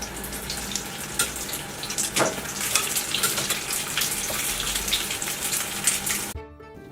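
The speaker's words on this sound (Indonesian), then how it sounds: "Kita akan menggoreng ikan begini." Hot oil sizzles and crackles steadily as eel fries in a wok, a dense spitting hiss that cuts off abruptly near the end.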